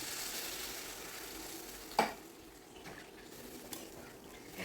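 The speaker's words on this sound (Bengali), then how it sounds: "এখন এর মধ্যে দিয়ে দেব পরিমাণ মতো জল।" Water poured into a pan of potatoes and spices cooking for a fish curry, a brief splash and sizzle near the start, then a soft bubbling simmer continuing quietly.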